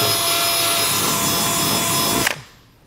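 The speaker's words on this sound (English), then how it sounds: "So we'll just drill straight through." A power drill bores an 11/32 hole straight through a 2020 vehicle's body while installing Air Lift LoadLifter 5000 air helper springs, a loud, steady grinding whir that cuts off abruptly near the end.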